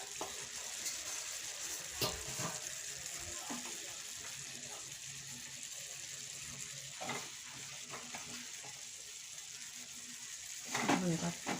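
Papaya curry sizzles in a pan as pre-fried shrimp are added, a steady hiss under scattered spoon scrapes and clinks, with a burst of louder stirring near the end and a quiet voice speaking.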